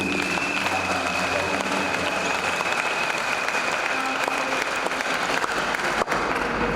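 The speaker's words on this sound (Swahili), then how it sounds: "Tumpigie Yesu makofi ya juu" A church congregation at a Good Friday service claps loudly and continuously for Jesus, a dense, sustained wash of applause filling the room from start to end.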